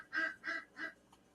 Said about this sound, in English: I hear ducks right now.